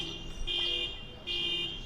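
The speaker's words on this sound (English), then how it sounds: "there's a car alarm for you." A car alarm sounds nearby on a city street with a shrill, steady electronic tone that pulses and shifts between patterns.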